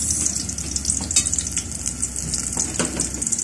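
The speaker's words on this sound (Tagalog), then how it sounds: "luto tayo ng sardinas" Sardines frying in a pan, with a steady bright sizzle and occasional crackles and pops throughout, and no voices.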